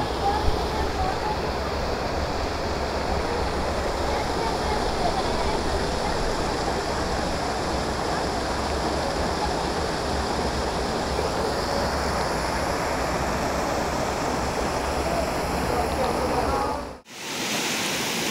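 Clear mountain stream near Darjeeling, its water rushing in a steady, loud broadband wash that runs on without a break before cutting off abruptly near the end.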